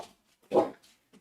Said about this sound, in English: sorry, my dog just went off.